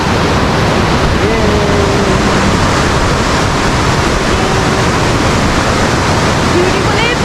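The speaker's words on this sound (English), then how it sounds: "Listen the smoothing sound of the water." Steady broadband rush of Eagle Falls waterfall at Lake Tahoe on an evening near Emerald Bay, continuous and loud throughout, with brief voices faintly heard over the water noise.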